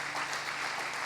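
Church congregation clapping together during a worship service, a steady dense wash of applause held throughout at moderate distance with no break.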